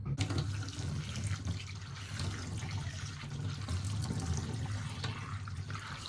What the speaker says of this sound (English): the washing of the seeds will help us to remove excess pulp